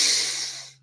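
A person draws one long, audible breath in during a breathwork session. The inhale is close and airy and fades out near the end over a faint low hum.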